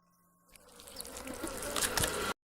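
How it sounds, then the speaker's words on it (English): Flies buzzing as a creepy analog horror sound effect, a thin droning hum that swells in from near silence and grows louder before cutting off abruptly. "you can hear the flies buzzing"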